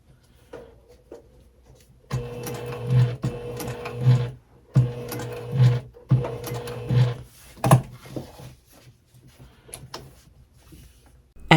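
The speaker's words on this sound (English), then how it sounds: "we are sewing a square just as illustrated in 57 illustration A through all the layers of the webbing" Sewing machine stitching a square through layered strap webbing, running in several short, loud, close bursts of rapid mechanical whirring with brief pauses and a few clicks between runs, no talk.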